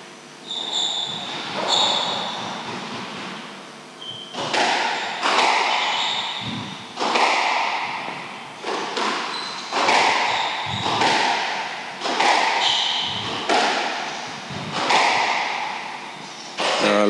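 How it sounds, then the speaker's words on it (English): Squash ball shots in a match ring out as sharp, hollow thwacks and wall impacts, a steady rally of well-spaced hits echoing in a court, with crowd or commentary sounds faint between them. "Lovely shot into the nick there by Nigel"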